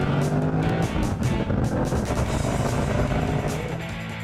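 A car accelerating hard with gear shifts at the Bob Bondurant School of Driving, a loud continuous engine roar close by with brief dips as gears change, no talk.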